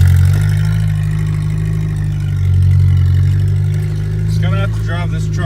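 A 1989 Ford Ranger with a 2.3 liter Pinto four-cylinder and five-speed drives off without a clutch, a steady loud low engine drone holding throughout with slight rises, with brief chirpy squeaks near the end.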